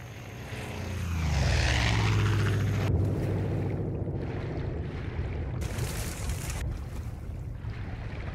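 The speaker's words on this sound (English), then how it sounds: "That's a plane." A propeller airplane in the video game Far Cry 5 roars past, swelling loud and fading with a Doppler sweep, then a steady engine drone continues under abrupt bursts of noise.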